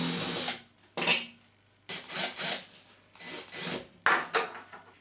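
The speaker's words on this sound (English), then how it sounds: "For the G-fix fixing, you simply need to remove the centre screw first and then remove the two smaller screws." Screws being turned out of a G-fix plasterboard fixing in a wall, heard as several short bursts of close, scraping, grinding sounds separated by brief quiet gaps.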